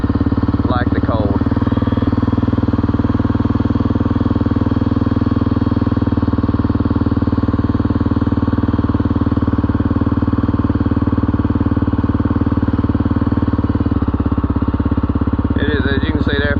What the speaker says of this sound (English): We're gonna see if the bike will even crank though this morning